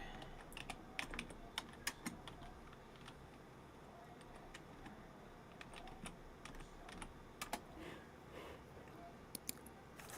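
Quick, irregular keyboard typing with clustered clicks and short pauses, close by, over a soft steady background hiss.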